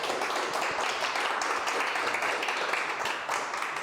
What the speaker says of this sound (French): je pense qu'on peut quand même l'applaudir pour